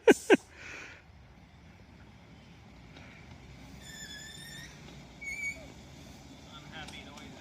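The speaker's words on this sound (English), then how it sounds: "Unhappy train noises." Train brakes squeal in a railroad video game on a logging branch line, giving faint, high, drawn-out whines a few times over a quiet rumbling background.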